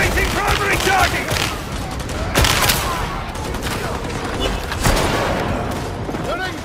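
Dense, continuous automatic gunfire and heavy shots from a Warhammer 40k Darktide battle on Xbox, loud and layered with sharp bursts, under in-game voice callouts.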